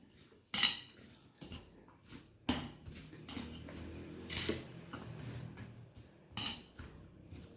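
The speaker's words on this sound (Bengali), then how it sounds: "নাড়িয়ে চাড়িয়ে নিচ্ছি" Chana chaat ingredients with coriander, chaat masala and black salt stirred in a bowl, a few sharp clinks of a spoon against the bowl between quieter scraping and rustling, close and fairly soft.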